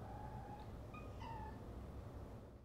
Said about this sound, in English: Luna, can you not use the litter box right now?